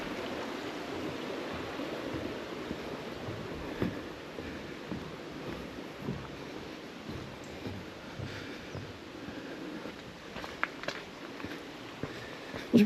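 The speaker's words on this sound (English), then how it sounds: "that's the stream that goes down to the waterfall." A stream flowing down toward Dyserth waterfall in autumn, a steady close rushing wash of water with a few small knocks and footstep-like scuffs, no talking.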